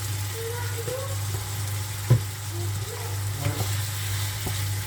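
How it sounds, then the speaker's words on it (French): Lemon-dressed pan gratin frying in a skillet, a steady low sizzle running throughout with a few soft scrapes and clicks of stirring, close and moderately loud, no speech. "Et on laisse griller tout ça."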